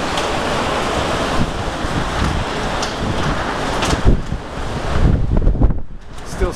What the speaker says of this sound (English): Crazy windy day today.